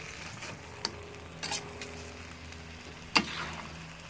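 Lamb with cabbage, carrot and ginger stir-fried in a pan, a soft sizzle under a few scraping clicks of a utensil as the food is stirred.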